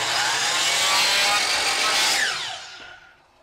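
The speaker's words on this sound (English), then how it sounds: "We're going to go ahead and cut one side of this board." A circular saw bevelled to 30 degrees rips through a wooden 1x6 board, a loud, steady high whine for over two seconds before the blade winds down and fades out.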